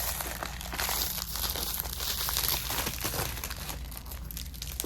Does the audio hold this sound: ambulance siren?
no